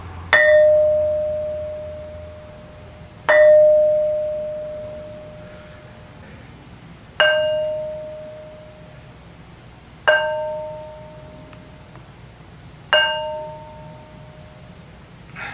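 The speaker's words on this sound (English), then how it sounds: "Demonstration how these stones ring like bells" A stone is struck five times at spaced intervals, each blow ringing out like a bell with a clear tone that slowly fades and lingers before the next strike.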